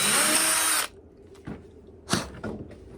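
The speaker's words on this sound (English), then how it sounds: "put your 1/4 inch drill in your drill gun, hold it right over the edge, and as square as possible" A drill gun with a 1/4 inch bit bores a small hole in a walking stick, a loud high whine for under a second, then stopping, followed by a few short clatters and knocks.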